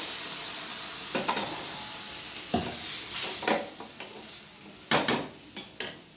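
Hot water poured into a pan of frying fish curry with potato and prawn in mustard-poppy seed sauce, giving a steady close sizzle with several sharp stirring and utensil clatters against the pan.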